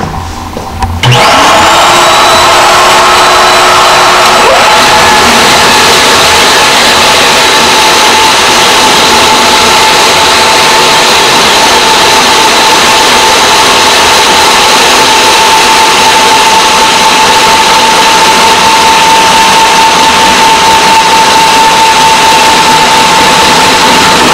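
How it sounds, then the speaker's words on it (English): A concrete floor grinder and its dust vacuum start up after a moment of quiet, then run on in a loud, steady whine with a constant mechanical hum while the grinder removes the surface laitance from a cracked concrete floor to prepare it for coating. "First we turn on the vacuum, then we turn on the grinder."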